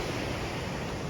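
Pykara waterfall in Ooty during rain, a dense steady rush of falling water, close and constant over the short stretch with no voices.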